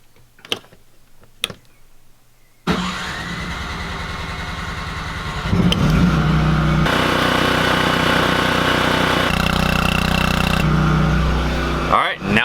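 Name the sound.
Cummins Onan 2500 LP generator starting and running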